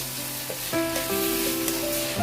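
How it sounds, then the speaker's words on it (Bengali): Gobindobhog rice frying in a pan with whole spices for a vegetarian pulao, a soft sizzle under scraping stir strokes and a few light clinks, close but fairly quiet, with no talking. "একটু ভেজে নেব চালটা"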